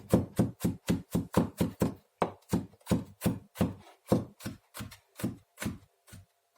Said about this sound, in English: just running your knife along like this will make sure that it's small enough anyway